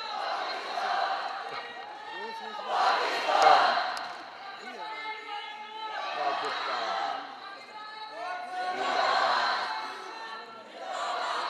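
A large crowd at a youth leadership summit in Islamabad chants slogans in loud swelling waves, voices rising and falling in rhythmic bursts across the hall with a leading voice between the surges.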